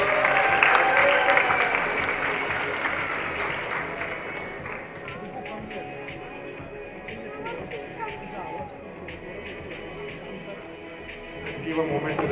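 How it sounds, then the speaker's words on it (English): An audience at a fashion show applauds the models, the clapping loudest at the outset and gradually thinning into a lighter patter, with voices and crowd murmur continuing over it. "Please give a big round of applause for these guys"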